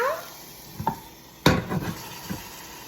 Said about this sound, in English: I'm gonna go ahead and add the butter now